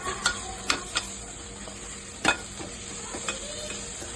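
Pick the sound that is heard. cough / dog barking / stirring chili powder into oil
stirring chili powder into oil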